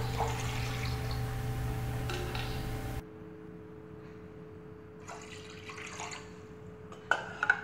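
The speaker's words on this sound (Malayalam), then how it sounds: "ഒരു പാനിലേക്ക് മെഷർമെൻ്റ് കപ്പിൽ 4 കപ്പ് വെള്ളം ഒഴിക്കാം" Water is poured from a measuring cup into a pan while making iced lemon tea, a steady close flow that cuts off, then brief soft splashes and clinks follow in a quieter stretch.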